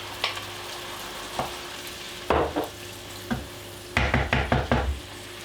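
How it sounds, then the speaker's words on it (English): Tomatoes and mushrooms sizzle in a pan for creamy chicken pasta, a soft steady frying hiss broken by sharp scraping stirs and clinks of a utensil against the pan, in quick clustered bursts. "we're going to add the tomatoes to that pan."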